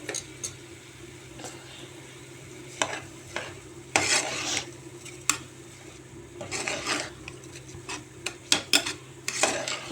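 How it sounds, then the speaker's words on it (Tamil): Rice being stirred into masala in a pan for tomato rice, a spoon scraping and clinking against the metal in irregular strokes over a soft background sizzle, close and moderately loud with no talking. "மசாலில் அரிசியை போட்டு ஒரு 2 நிமிஷம் நல்லா பெரட்டி விடுங்க."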